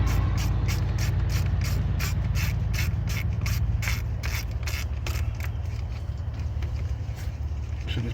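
Hand ratchet clicking off a 10mm bracket bolt that holds a wiring harness on a 1999–2006 GM engine, a steady run of quick, loud metallic clicks close by over a low background hum.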